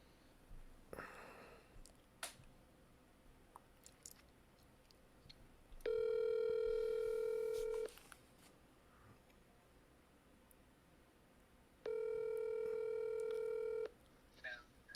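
A telephone handset sounds two separate bursts of DTMF touch-tone dialing, each about two seconds long, while a call is being placed back. Faint room noise and sniffs fill the gaps between the bursts.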